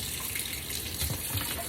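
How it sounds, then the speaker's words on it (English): Cold water runs steadily from a kitchen tap into a bowl of harvested squirrel meat in a sink, a continuous close splashing hiss with no talk. "And we get the cold water going here."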